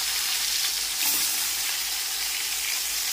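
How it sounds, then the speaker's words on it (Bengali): Koi fish frying in hot oil in a wok, a dense, loud, continuous crackling sizzle throughout with no voices. "কই মাছটা ভাজা করে নিচ্ছি"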